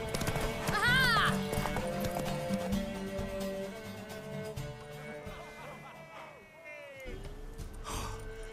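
Horse hooves clip-clop at a gallop in The Witcher 3, a mare racing under game music, with a whinny near the start and gasping and voices over the hoofbeats.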